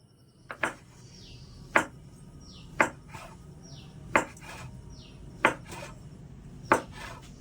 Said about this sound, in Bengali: এবারে একটা ছুরির সাহায্যে এভাবে করে একটু মোটা মোটা করে কেটে নিচ্ছি